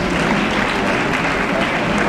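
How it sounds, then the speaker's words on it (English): Steady, dense clapping from an audience at a Tamil Nadu Muslim graduates' association event, honouring students, continuous and loud throughout. "Kindly clap and motivate the students."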